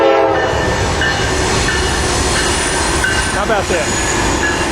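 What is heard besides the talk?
passing train with horn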